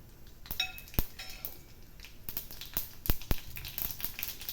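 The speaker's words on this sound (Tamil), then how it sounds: "இப்போ எண்ணெய் காஞ்சிடுச்சு. நம்ம எடுத்து வச்சுருக்கிற கடுகு, உளுந்தை போட்டுடலாம்." Mustard seeds and urad dal tossed into hot oil for a South Indian tempering, giving sharp crackles and pops with metallic clinks of a pan and spoon, close and fairly quiet, no talk.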